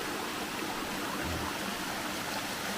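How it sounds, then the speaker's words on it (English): A stream rushes at a water crossing directly below the main waterfall of Rufus Morgan Falls near Franklin, North Carolina, a steady, broad, close wash of water with no break. "Here we got another water crossing. This is directly below the main waterfall."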